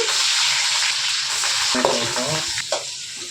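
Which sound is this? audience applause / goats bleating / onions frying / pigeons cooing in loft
onions frying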